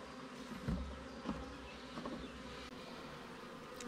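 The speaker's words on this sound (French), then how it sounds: "Les abeilles sont calmes." Honey bees buzzing around a hive, a dense continuous hum of many insects close by, with a few louder passes near the microphone.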